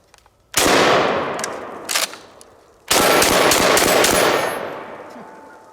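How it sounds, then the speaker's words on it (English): Shotgun firing birdshot outdoors, two loud blasts a couple of seconds apart with a quick extra pop between and long ringing echoes trailing after each, no talk. "we are shooting birdshot."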